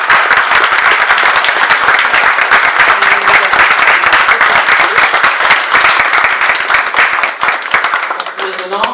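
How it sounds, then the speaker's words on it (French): Loud, sustained applause from a crowd, dense clapping that carries on steadily before tapering slightly at the end. "Donc je veux demander un petit applaudissement pour Lisette et Gérard."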